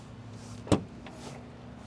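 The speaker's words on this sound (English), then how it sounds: "Automatic liftgate open on both Premium Plus" A 2023 Audi Q5 Sportback's automatic liftgate opens with a single sharp latch click, followed by a faint electric motor whir in a quiet setting.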